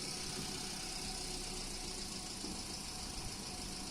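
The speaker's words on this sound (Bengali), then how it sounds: "এক্সেলেটার দেবে না, খালি ক্লাচের ওপরে গাড়ি চলবে।" A car engine idles steadily at a driving school lot in Serampore, Hooghly, as the learner creeps forward on the clutch alone with no throttle; a constant low mechanical rumble with faint knocking and vibration, close and unbroken throughout.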